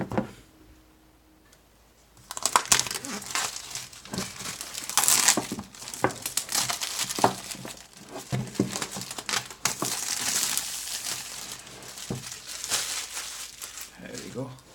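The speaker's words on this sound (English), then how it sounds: "First let me remove this plastic on this box." Plastic wrap crinkles and tears as it is peeled off a Microsoft Surface headphones box, starting after a quiet moment with loud, close, irregular crackling and crumpling bursts that continue to the end.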